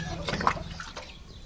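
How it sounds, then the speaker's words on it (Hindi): Six litres of water poured into a vessel to prepare a seed treatment for SRI paddy cultivation: a short, soft splashing gush up close, fading after about a second. "सबसे पहले दीदी एगो बर्तन में 6 लीटर पानी ले भाई"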